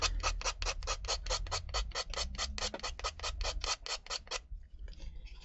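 An emery board sanding an MDF tag in about twenty quick, even back-and-forth rasping strokes, close and steady, stopping near the end with faint handling noise.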